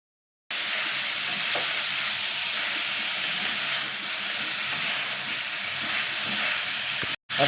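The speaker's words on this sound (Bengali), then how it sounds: "এবার এটাকে সুন্দর করে নাড়াচাড়া করে আমরা এটাকে কিছুক্ষণ ভেজে নিব" Food frying in a pan with salt added, a loud, steady sizzling hiss that starts abruptly and holds evenly with stirring underneath, close by, cutting off briefly near the end.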